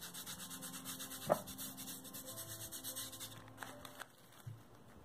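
Glitter is being burnished onto a craft background: a soft, steady dry rubbing and brushing with one sharp tap near the start, continuous and fairly quiet, with no talking.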